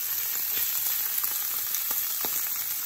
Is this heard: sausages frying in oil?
yes